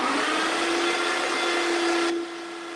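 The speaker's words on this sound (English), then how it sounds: "We're going to do a 13-second grind." A coffee grinder runs a 13-second grind for a latte, giving a loud, steady whirring hiss with a constant tone that drops off abruptly near the end.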